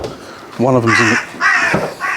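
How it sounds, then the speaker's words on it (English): A crow caws three times outdoors, loud and close, with someone talking faintly in the background. "excuse the bird noise"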